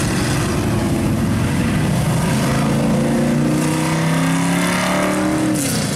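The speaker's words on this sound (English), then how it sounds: "I somehow don't think the engine noises are coming from that electric Tesla." Loud engine roar from classic cars in slow traffic at the Woodward Dream Cruise, a continuous rumbling drone with shifting pitch as engines rev and ease off, close by and without speech.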